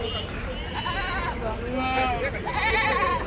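Goats bleat repeatedly at the Angallu livestock market, with loud, wavering cries close by and several overlapping calls, set against a busy background of crowd chatter.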